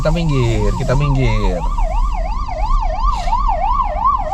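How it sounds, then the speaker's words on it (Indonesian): A real ambulance siren on a road in Spain, loud and close: a two-tone wail at first, then a rapid rising and falling yelp, heard from inside a BMW iX3 Neue Klasse car. "Wah, itu kan ambulans beneran."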